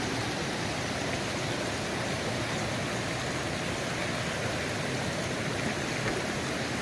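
Light rain with river water running nearby, a constant dense hiss and rush filling the whole stretch without pauses or voices.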